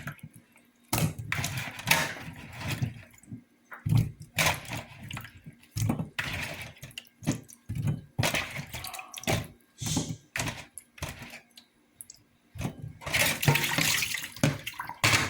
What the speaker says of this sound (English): I've washed the yam.